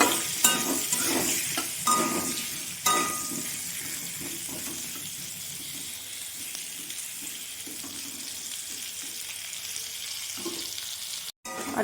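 Potatoes frying in a pan make a dense, continuous sizzle, with a few utensil knocks early on. The sound is close and steady, with no speech.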